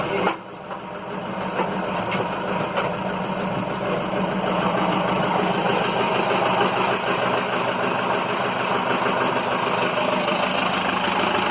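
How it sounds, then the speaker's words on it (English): Inboard engine of a Nelson 34 motor boat idling steadily, a loud continuous mechanical rumble with a faint knocking texture that holds evenly throughout with no speech. "That's the engine."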